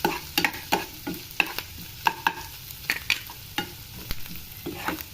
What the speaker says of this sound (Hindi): सबसे पहले 2 चम्मच ऑयल डाल लिया है और हम इसमें डाल देंगे प्याज